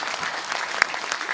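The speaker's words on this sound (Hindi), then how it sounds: "ताली धीरे धीरे बज रही है।" A political audience in Delhi applauds a speech by the chief minister. The clapping is steady and moderately loud, with one sharp, louder clap standing out midway.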